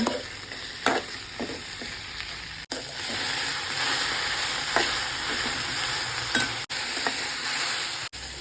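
Okra frying in a spoonful or two of oil in a pan, a dense, steady hissing sizzle with scattered clicks of stirring, close up and alone, with a few abrupt cuts.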